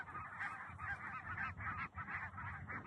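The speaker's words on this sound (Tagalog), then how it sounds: "yung wild na gansa, ang dami nila" A large flock of wild geese honking together in a steady rhythmic chorus of repeated calls, faint and distant, with no talk over it.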